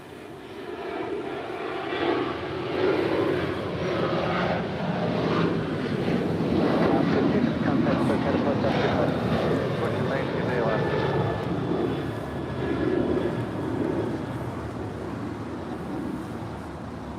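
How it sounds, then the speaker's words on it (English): An Alaska Airlines Boeing 737-800 jet taking off at Los Angeles International Airport, its engine roar building and swelling to a loud peak midway, then easing slightly, with wind buffeting the microphone. "It's a 737-800."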